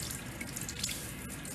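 Lukewarm tap water runs steadily from a faucet into a sink while rinsing a granular exfoliant off a face, a close, continuous splashing hiss with small irregular drips and splashes.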